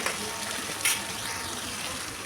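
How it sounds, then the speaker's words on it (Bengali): Tomato and fried capsicum hiss steadily in a pan as they are stirred, with a brief sharper spatter partway through and no talking. "তো টমেটোটা দিয়ে ভালো করে আমি নেড়ে নেব"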